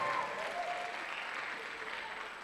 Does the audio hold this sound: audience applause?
yes